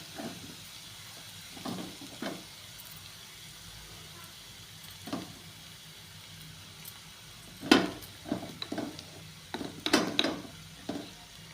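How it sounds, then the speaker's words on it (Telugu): Onion paste with turmeric and chili powder frying in a pan makes a soft hiss, broken by intermittent louder bursts of stirring and spattering, with no one talking. "ఎర్రగా వచ్చేంత వరకు ఫ్రై చేసుకోవాలి"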